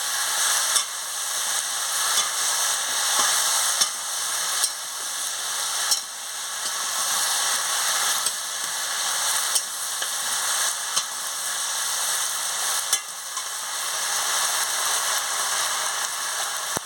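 Taro and prawn curry being stirred in a pan, with a steady loud sizzle of frying throughout and occasional soft scraping strokes, no voices.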